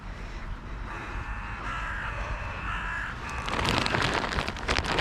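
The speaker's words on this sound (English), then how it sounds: "We have a couple of crows." A couple of crows calling outdoors near a backyard bird feeding station in poor weather, giving a few harsh caws against faint background hiss.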